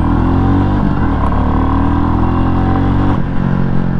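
A 2023 Royal Enfield Classic 350 motorcycle engine runs close and loud as a steady, thick droning thrum with a rough mechanical texture, with no voices.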